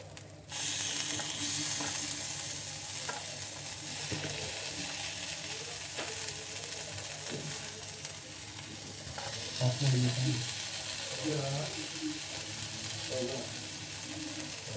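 Brinjal slices fry on a tava over a low flame, a continuous soft sizzle with occasional scrapes and light clinks of a utensil turning the pieces, heard close with no voices.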